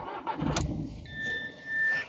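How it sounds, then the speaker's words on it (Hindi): Force Gurkha 2024 five-door SUV starting up, with a brief cranking burst and a settling idle, alongside the chime of a dashboard welcome tone, close and moderately loud. "गाड़ी को स्टार्ट करते हैं"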